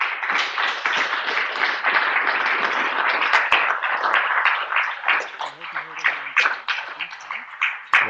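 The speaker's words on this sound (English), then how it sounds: "I hope you heard everyone clap" A dense, steady wash of clapping from a seated audience at the close of a technology-in-learning talk fills several seconds, thinning toward the end as a voice begins speaking over it.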